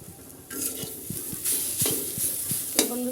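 A pan of taro leaves sizzles steadily while a spatula stirs and scrapes, giving a rhythm of short clattering knocks against the metal, close and fairly quiet, with no voices.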